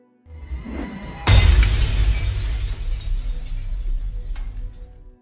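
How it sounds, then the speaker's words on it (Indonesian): A porcelain doll is slammed down and shatters to pieces with one loud, sudden crash, followed by a rumbling, crackling scatter of fragments that slowly fades. "Cole kemudian membanting Brahms yang menyebabkan boneka itu hancur berantakan"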